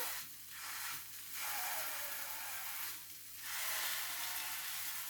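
Buckwheat pancakes fry in a hot pan with a steady close hiss that swells in three broad bursts as the pan is rotated, with no talking.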